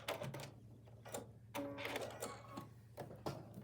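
Sewing machine back-stitching through quilt fabric: a short close burst of rapid mechanical needle clatter, pausing and restarting as it runs back and forth, over a steady motor hum, no talking.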